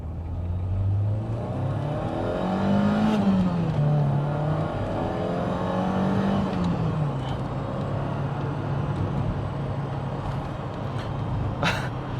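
A Vauxhall Astra Mk2 GTE 16V hatchback drives along, engine note climbing and dropping through gear changes in the first half, then settling into a steady cruising drone with road and wind noise.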